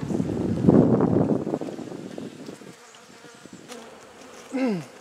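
Honeybees buzz around an open beehive during an inspection, a dense close hum that swells loudly at first, then thins to scattered buzzing with a single bee zipping past the microphone near the end.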